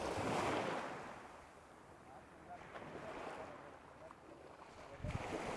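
Sea waves at Munakkakadavu beach near Chavakkad wash up the sand in a broad surging rush, with wind buffeting the microphone and a fresh swell near the end.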